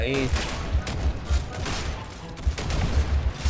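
Gunfire in the Roblox video game comes in rapid repeated shots, two close bursts of rhythmic thuds with a brief gap between them.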